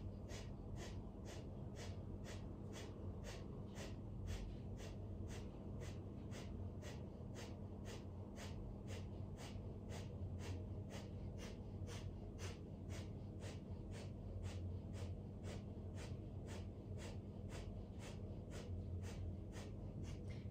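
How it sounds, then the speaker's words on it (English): Rapid, even breath of fire during a Kundalini yoga session, with forceful nasal exhales pulsing about twice a second in a steady, unbroken rhythm, close and clear over a low constant hum. "begin my journey breathing with the breath of fire"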